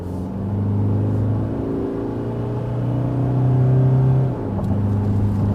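A 2021 facelift Toyota Hilux double cab Invincible in power mode and 2-wheel drive accelerates hard from 60 to 100 km/h, its engine droning and rising steadily with one brief gearshift dip, heard loud from inside the cabin.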